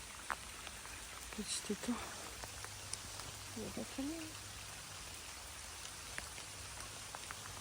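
Light rain falls by a small pond while someone fishes as the sun breaks through, a soft, steady patter with scattered drips beneath a few brief spoken words.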